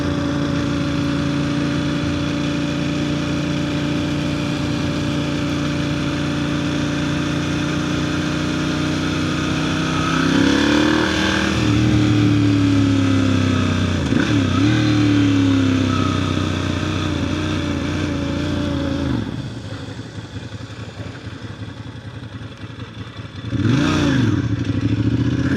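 Ducati Monster 1100 motorcycle engine running hard at night, a loud, close, steady rumble with several throttle blips and revs rising and falling, a brief drop toward idle near the end, then another sharp rev.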